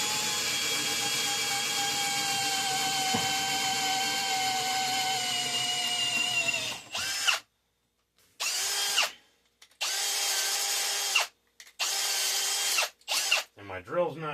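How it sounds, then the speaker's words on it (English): A cordless power drill, freshly charged, runs at low speed while custom bus bars are fitted on a homemade LiFePO4 solar battery bank, with one long close whir followed by several shorter bursts separated by brief silences. "And my drill's not dead because I just charged it."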